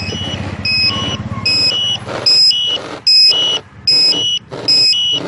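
A TEXNO anti-theft alarm on a Suzuki GSX R600 K7 motorcycle sounds, loud and near, repeating bursts of piercing electronic beeps in a steady on-off pattern with a faint low engine-like hum beneath.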